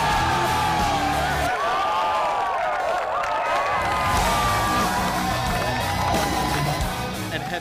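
Rugby crowd at a 2012 Tag20 International Cup match between New Zealand and Australia, a sustained roar of cheering and whooping that holds steady throughout with scattered yells.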